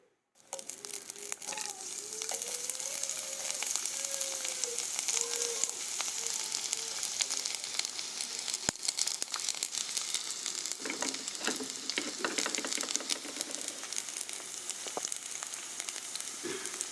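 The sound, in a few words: garlic frying in hot oil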